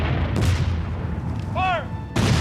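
Civil War cannons fire during a living-history demonstration at Pea Ridge: a loud, close boom opens, a shouted command follows, then a second heavy blast.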